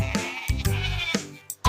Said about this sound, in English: L is for lamb.